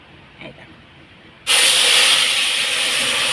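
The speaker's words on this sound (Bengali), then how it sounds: "ডালটা এখন ফোড়ন দিয়ে দেবো ফোড়নের মধ্যে দিয়েছি তোমার জিরে আর শুকনো লঙ্কা তা ডালটা ঢেলে দিয়ে নিই" Cooked dal poured into a hot tempering of cumin seeds and dried red chilli erupts into a sudden loud, sustained hissing sizzle after a quieter moment with faint background talk.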